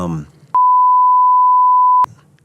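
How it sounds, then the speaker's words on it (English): A steady censor bleep runs for about a second and a half, cutting over a spoken word, with casual talk heard just before and after it. "We'll beep it out."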